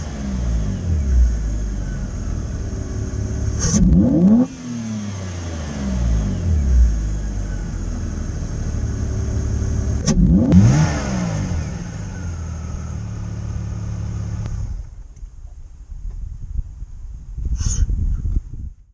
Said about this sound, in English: the E46 is now breathing in more cold air with some slight engine/whoosh noise